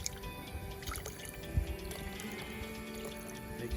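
Freshly grated coconut pressed by hand in a backyard Guyanese kitchen, coconut milk dripping and squishing out in soft wet trickles over a steady low background hum.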